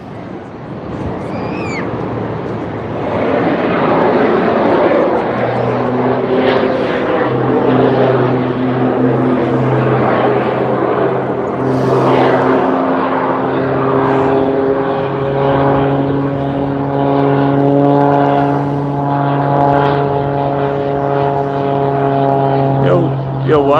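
Propeller aircraft flying past at the Blackpool airshow, a loud droning engine whose pitch slides as it passes close by, heard alongside crowd noise and talking nearby.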